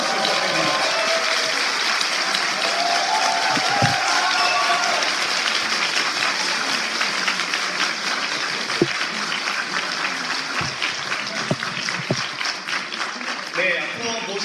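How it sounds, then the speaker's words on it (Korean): Sustained applause from an audience at a new party members' academy event in Seoul, greeting the arriving mayor; steady dense clapping fills the whole stretch, loud and continuous, with a few louder isolated claps near the end. "큰 박수 부탁드립니다."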